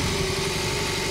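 A BMW R18 Bagger motorcycle engine from 2022 idles steadily up close, a continuous low mechanical throb with a faint whine on top, with no talk over it.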